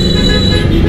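Dense roadway noise from buses and other vehicles crawling on a jammed road, a continuous loud rumble with horn toots mixed in.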